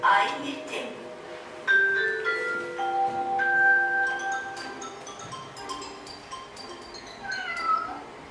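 A cat meows repeatedly, several drawn-out close cries with short pauses between, over faint background murmur.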